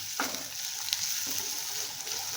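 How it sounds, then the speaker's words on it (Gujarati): Spices sauté in a pan for drumstick kadhi over a medium flame, making a steady, soft sizzle with occasional light spoon scrapes as they are stirred. "બધું સરસ રીતે સાતળી લેવાનું."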